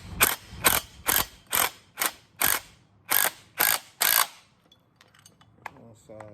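A ratchet wrench tightens bolts during a TR6060 transmission install on a 1967-69 Camaro, giving nine quick, evenly spaced bursts of clicking followed by faint tool clatter.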